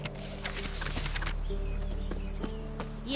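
Roach the horse walks along in The Witcher-style game world, hooves clip-clopping in a slow, steady rhythm over a low droning background, close and moderately loud without speech.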